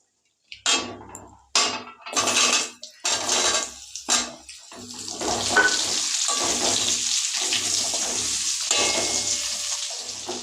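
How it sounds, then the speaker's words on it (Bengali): Washed potatoes land on a pan of hot oil with bay leaf and dried chillies. Several sharp bursts of sizzling and stirring clatter give way to a steady, loud frying hiss. "এবার এটাকে একটু নেড়ে চেড়ে এর মধ্যে দিয়ে দেব আগে থেকে ধুয়ে রাখা আলু"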